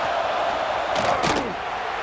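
Stadium crowd roaring in College Football 26 as the Alabama home crowd rolls noise onto the field on third down, a dense, steady wash of cheering with a short sharp slam-like burst in the middle.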